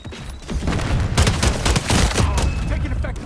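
A grenade blast and bursts of gunfire in Modern Warfare multiplayer crash loudly in rapid succession, booming and crackling through most of the span, with some voice mixed in.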